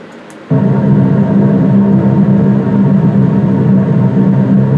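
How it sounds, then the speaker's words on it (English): A deep, loud, continuous engine roar kicks in after half a second and holds steady: a B-17 bomber's four propeller engines at full throttle, recorded inside the aircraft in flight. "American B-17 engines sound like when they're at full throttle carrying a load."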